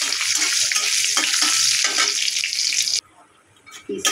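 Cashews and raisins fry in ghee with a loud, close, continuous sizzle broken by stirring scrapes, then the sizzle cuts off abruptly into near quiet before a faint clatter returns.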